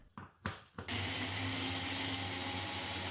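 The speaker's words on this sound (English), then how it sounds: "Add a good splash of water, then process in a high-powered blender." A few short knocks and bumps, then a high-powered blender roars to life processing ginger with water, running steadily, loud and close.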